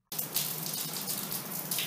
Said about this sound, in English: let me just finish my shower